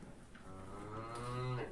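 A milk cow or calf on a farm gives a single drawn-out moo that rises and swells, close and clear over a faint background hush.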